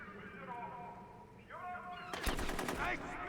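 Gunshots from a gun in the Rogue Warrior video game, a short rapid burst of thin, weak-sounding shots near the end, following quieter game sounds.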